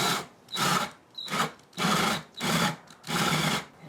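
A cordless power drill with a weak battery whirs in five short bursts, each about half a second, separated by brief pauses, close by.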